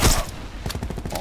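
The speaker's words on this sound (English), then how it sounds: "I'm guessing that's a cluster grenade" In Call of Duty: Black Ops 4 gameplay, a cluster grenade goes off as a loud opening blast followed by a quick string of smaller rattling detonations, all close and over in about a second.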